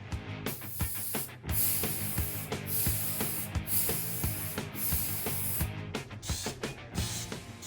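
Aerosol spray paint hisses steadily onto a part of a 1993 Dodge W350 Cummins dually truck, loud and close, with brief pauses and clicks as the can sweeps across the piece.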